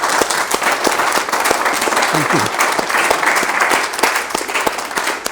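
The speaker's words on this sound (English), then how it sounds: "So I ask you to applaud them once again." Sustained audience applause for Jim and Judy at a talk, dense and steady clapping filling the room throughout, with a brief spoken thanks partway through.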